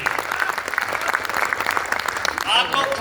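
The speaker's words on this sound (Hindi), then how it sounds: "आपकी तालियां अच्छी आनी चाहिए" Audience at a Rajasthani community poetry event in Navi Mumbai clapping steadily, the applause running under a speaking voice throughout.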